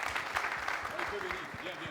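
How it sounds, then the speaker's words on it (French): Applause from an audience at a prison-life event in Ouagadougou, Burkina Faso, a steady dense patter that runs the whole time beneath someone speaking over a microphone. "on va l'applaudir bien fort"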